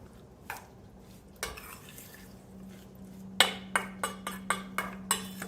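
A metal spoon mixes raw shrimp in a dish, starting with soft stirring and then a run of sharp, evenly spaced clinks against the bowl near the end, close up and without speech.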